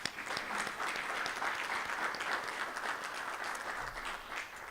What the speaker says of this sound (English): So please give Pacific Engineering a round of applause.